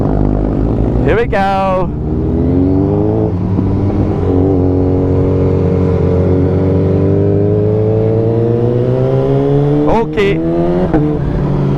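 A high-performance motorcycle engine idles loudly up close, with steady harmonic drone and sharp rising revs near the start and again near the end, while people speak briefly over it.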